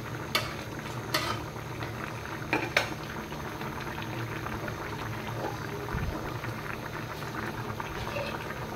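Rui fish and stalk-and-potato curry simmers on medium heat, a steady bubbling hiss with several sharp clinks of utensil against pan early on, close and without talk.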